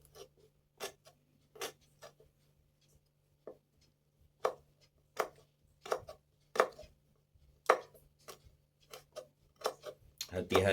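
A knife chops through wilted carrots on a board in a series of crisp, irregular taps, close and fairly quiet, growing quicker toward the end.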